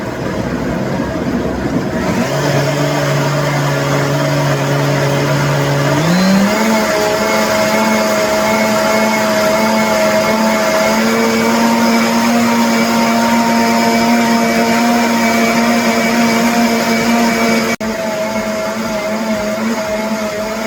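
A blender makes a smoothie with a loud, steady motor whine that steps up in pitch after a few seconds and holds a high, even drone, dipping slightly near the end, with no voices.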